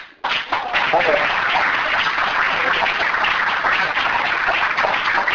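Sustained, dense applause from an audience at a political gathering on Marxism and the Basque abertzale left, starting abruptly after a brief pause and holding steady and loud to the end.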